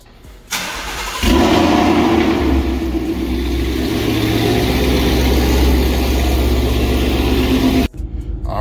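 A Ford Mustang with a Lund tune on 93 octane cranks briefly, fires up loudly and settles into a strong, steady idle rumble for several seconds before cutting off, recorded close by outside.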